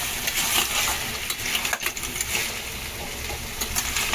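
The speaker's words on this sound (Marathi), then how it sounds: "कांद्यात आणि तेलामध्ये नेमकं आम्ही आता मस्तपैकी परतून घेत आहोत जरा." Clams and onion sizzle in hot oil while being stirred with a utensil in a home kitchen, a loud, close, continuous frying hiss broken by scraping strokes.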